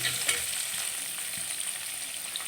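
Tempering spices, chana dal, cumin, mustard seeds, turmeric and onions frying in hot oil for a dry potato fry, giving a dense, steady close sizzle with light stirring and no talk.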